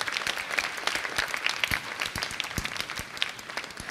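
A studio audience at a Ramadan iftar television transmission breaks into steady, sustained applause, many hands clapping densely at moderate volume throughout, with no talk over it.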